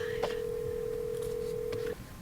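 A single steady dial tone from a telephone in a Nancy Drew video game holds for about two seconds, with faint clicks of keypresses over it before it cuts off.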